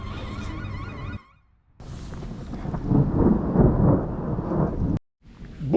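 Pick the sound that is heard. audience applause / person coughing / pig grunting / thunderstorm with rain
thunderstorm with rain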